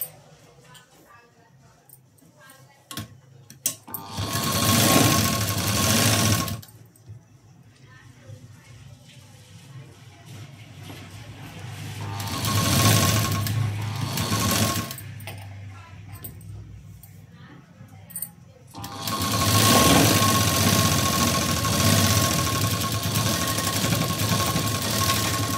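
A sewing machine stitches a blouse seam in three steady motor bursts of a few seconds each, with quieter pauses and speech in between.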